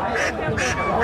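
At a village livestock market in Mirpur, Kushtia, geese let out a pair of brief, nasal honks close by, with a voice heard among them.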